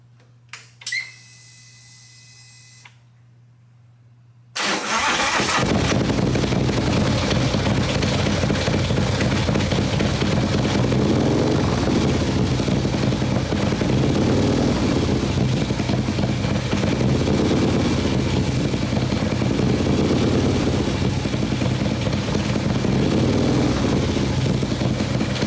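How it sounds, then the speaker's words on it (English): A freshly assembled 143 cubic inch Milwaukee 8 motorcycle engine fires for the first time: a short quiet stretch, then it suddenly roars to life and keeps running loud and steady at close range. "See what this thing sounds like first startup."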